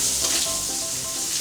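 Bacon frying in oil in a non-stick pan, a continuous bright crackling sizzle with small pops, close and steady, no talking.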